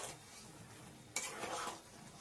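Mango pickle being stirred after a spoonful of vinegar goes in, a soft scraping stir in a pan that grows busier and brighter halfway through, close and fairly quiet with no voices.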